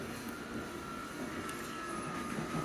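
A London Underground Circle line train running, giving a steady, fairly faint rumble of wheels and carriage noise with a faint high whine throughout and no talking.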